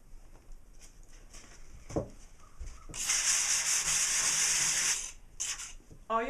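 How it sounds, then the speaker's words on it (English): Someone hand-sands a patched wall, at first with faint scattered scrapes and taps, then a loud, continuous abrasive rasp of about two seconds, followed by a few short strokes near the end. "So let's sand."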